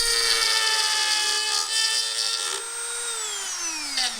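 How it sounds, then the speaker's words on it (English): A small Dremel rotary tool with a carbide bit cuts aluminum on a dirt bike, making a loud, high, steady whine whose pitch drops near the end as the tool slows. "This little Dremel with the carbide tip"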